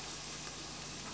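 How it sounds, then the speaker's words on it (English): Onions and bacon sautéing in a little oil in a pan. A steady, faint, even sizzle runs throughout, with no voices. "I'm going to put these onions in there, and I'm going to add just a little tiny bit of oil"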